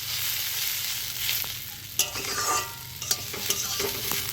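Scraping and stirring of a cooked watermelon-rind dish as it is scooped from a pan onto a plate, with clinks and soft scrapes over a faint sizzle, close and moderately loud.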